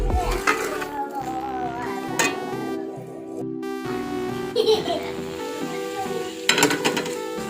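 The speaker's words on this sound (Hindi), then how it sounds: "कलेजी और पोटे डाल के फिर हमने अच्छे तरीके से इनको भून लेना है" Chicken liver and gizzard frying in spices, a light sizzle with intermittent clanks and scrapes of a utensil against the pot, while a steady humming tone and other household sounds run underneath.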